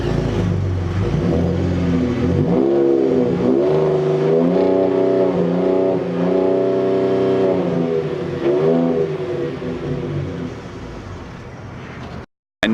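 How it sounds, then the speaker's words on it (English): Ford F-150 Raptor pickup truck engine revving loudly and close, several rising and falling rev sweeps over a steady idle rumble, with no talking. "the sound on them, you know what, instead of talking about it, we'll let you hear it"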